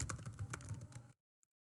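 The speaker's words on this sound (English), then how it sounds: "just go ahead and start typing my message." Rapid clicking of keys on a computer keyboard as a message is typed, close and clear, stopping abruptly partway through with one faint tap after.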